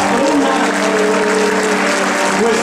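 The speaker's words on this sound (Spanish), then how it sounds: "damos un fuerte aplauso a la Virgen María en su advocación de los dolores de Soriano, nuestra patrona" An audience at a diocesan assembly applauds in honour of the Virgin Mary, a dense, steady burst of many hands clapping filling the hall, with faint voices mixed in.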